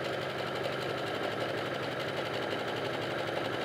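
A home sewing machine runs steadily through felted wool sweater fabric, a continuous close mechanical whir with a fast, even stitching rhythm and no talk.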